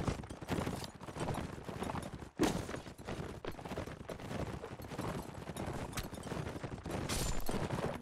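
Horses gallop in a multiplayer combat video game, a dense continuous drumming of hooves mixed with clashing battle noise, steady and loud with no voices.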